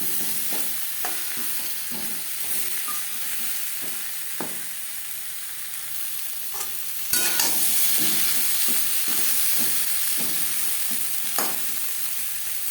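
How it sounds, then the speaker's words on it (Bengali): Papaya pieces fry in a kadai with a constant oily sizzle, while a spoon stirs and scrapes the pan in irregular strokes, growing louder midway. "চার পাঁচ মিনিট পেঁপে ভেজে নেওয়ার পর"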